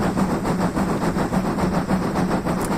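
BR Standard steam locomotive 78022 in green livery works hard on the Keighley and Worth Valley Railway, its exhaust beating in a steady rapid chuff of about four beats per second, loud and close with no talk.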